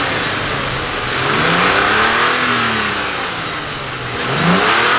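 A Toyota Tacoma pickup engine with a Borla exhaust and Mishimoto air intake revs up through a deep throaty exhaust, rising and falling in pitch, then drops back before a second sharp rev at the end.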